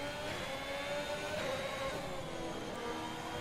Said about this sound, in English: I love the sound of those engines in that tunnel